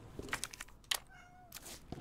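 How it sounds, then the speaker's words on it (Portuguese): A house cat meows a few times close by, short rising cries with small rustling and clicks between them, no talking. "E eu vou ter que botar meu gato pra fora."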